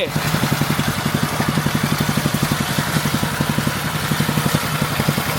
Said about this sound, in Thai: พอเครื่องติดแล้วนะ เราก็ปรับเป็นรอบเดินเบานะครับ